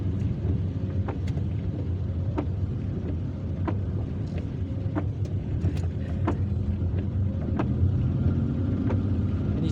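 Car traffic on a wet road in Algiers on a rainy afternoon, a continuous low rumble of tyres and engines with occasional sharper splashes and passing hiss, steady and fairly close throughout.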